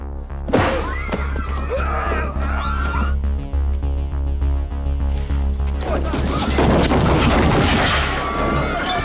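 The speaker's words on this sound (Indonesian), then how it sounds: "Baku tembak pun terjadi." An action film shootout with bursts of gunfire and crashing impacts, loud and chaotic, mixed over a heavy droning musical score with a sustained low rumble.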